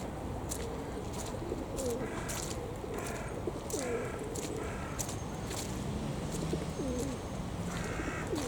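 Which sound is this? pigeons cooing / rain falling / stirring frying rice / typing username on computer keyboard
pigeons cooing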